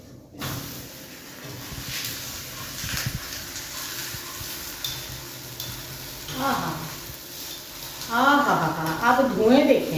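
Rice roti cooking on a greased tawa griddle with desi ghee, giving a steady, close sizzle throughout, with a voice-like sound rising over it near the end.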